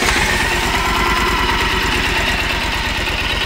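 A 2014 Triumph Thunderbird LT motorcycle engine idles close by with a steady, loud, rhythmic low thumping pulse throughout.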